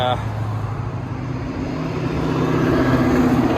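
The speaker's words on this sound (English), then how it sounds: "sorry about the traffic." Steady roadside traffic with car engines rumbling past continuously, building slightly louder toward the end; a low engine hum runs underneath throughout.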